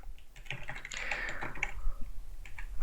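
Rapid, irregular keystrokes clatter on a computer keyboard, close and fairly quiet, in a steady stream of typing with no talking.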